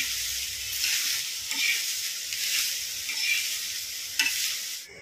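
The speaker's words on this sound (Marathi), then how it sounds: "तर कांदा घेते भाजून" Onion roasts in a pan with a loud, steady sizzle and hiss, broken by occasional stirring scrapes and small pops, close up and with no voices.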